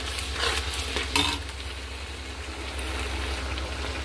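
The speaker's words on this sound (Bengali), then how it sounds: "মশলাটা আমি এর মধ্যে দিয়ে দিচ্ছি, দিয়ে আমি ভালো করে আবার কষিয়ে নেব।" Ginger, cumin, green chili and garlic paste fry in a pan for biryani, giving a soft, steady sizzle with a few scraping stir strokes near the start, fairly faint throughout.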